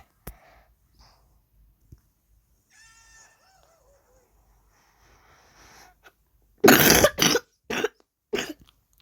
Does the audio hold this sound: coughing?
yes